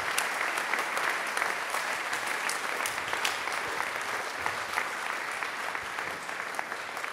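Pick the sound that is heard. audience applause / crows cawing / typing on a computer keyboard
audience applause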